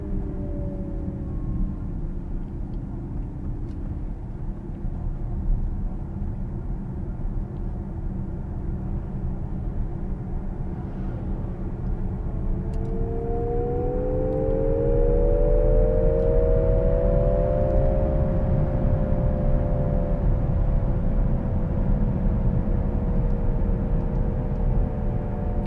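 A Nissan Ariya electric car in sport mode playing its synthetic digital engine sound, a hum that climbs and glides in pitch under acceleration over steady road rumble inside the cabin.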